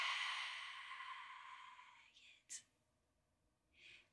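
A slow, deep yogic exhale during a gentle evening yoga flow, a long soft breathy rush lasting about two seconds that tapers off, followed by a couple of fainter breath puffs, close and quiet with no talking.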